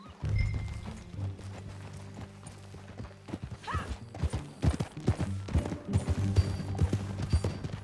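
Horse hooves clip-clopping at a steady riding gait in Red Dead Redemption 2, a continuous rhythmic patter of close hoofbeats over a low, droning musical bed.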